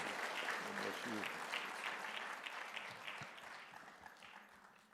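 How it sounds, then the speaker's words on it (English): An audience at a church gathering claps in welcome, a sustained round of applause that fades gradually, with a voice briefly audible at the start. "Let's give a big round of applause to Dr. Walsh and the HJI team."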